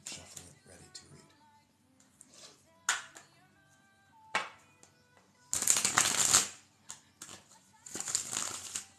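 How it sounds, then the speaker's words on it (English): Tarot cards shuffled by hand at a livestream reading table, with bursts of dense riffling and crisp bridging snaps between quieter pauses, several loud runs near the end, and light talk faintly beneath. "We're going to get these cards moving, shuffling, ready to read."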